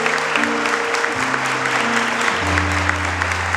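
Church congregation applauding during a sermon, a steady wash of clapping filling the room, with sustained low tones from an organ or keyboard underneath.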